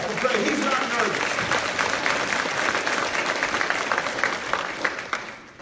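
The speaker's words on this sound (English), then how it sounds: "You can give him a hand clap and pray." Applause from a church audience rises as a dense, sustained clapping that tapers off toward the end, with a voice speaking faintly underneath.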